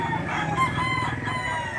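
At a chicken market in Lipa, Batangas, roosters crow loud and close in overlapping calls, with clucking and a busy crowd murmuring beneath.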